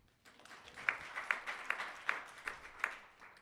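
An audience at a project pitching session applauds faintly. Scattered claps build into steady clapping, with several sharper individual claps standing out.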